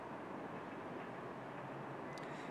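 A train passes below a balcony, a steady broad rumble and rushing roar heard from a moderate distance without a break.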